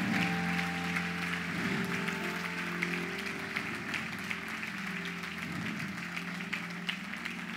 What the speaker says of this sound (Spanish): Fuerte ese aplauso de bienvenida